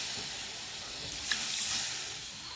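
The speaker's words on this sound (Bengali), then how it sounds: "গরম জলটা দিয়ে দিলাম।" Soft steady hiss and faint bubbling as hot water hits a pan of cooking pointed gourd, with a brief sharper splash partway through, quiet and close with nobody speaking.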